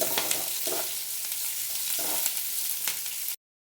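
Pumpkin peels and onion frying together in a pan, a steady close sizzle with a few stirring scrapes, ending abruptly.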